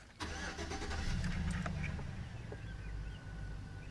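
A GM Silverado truck's AC blower comes up as a steady fan-like whoosh and holds under a low engine hum, with occasional faint clicks over a continuous rumble.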